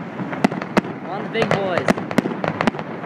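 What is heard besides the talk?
fireworks grand finale going off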